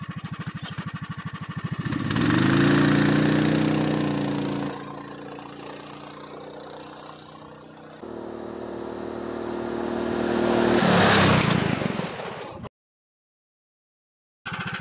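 Polaris Sportsman ATV with a 420 Power Fist engine revving through a high speed run, a loud steady engine drone climbing and shifting pitch over about twelve seconds, then cutting out abruptly.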